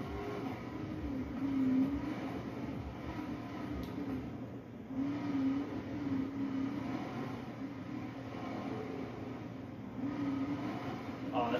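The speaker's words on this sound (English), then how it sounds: "They really got that sound right with the car engine." A car engine in the Xbox 360 game Crackdown drives through a tunnel, giving a steady rumbling drone that rises and falls in cycles, heard without talk.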